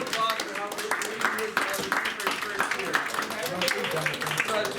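A room full of people at a school meeting claps, a dense patter of hand claps at moderate volume that continues steadily without pause.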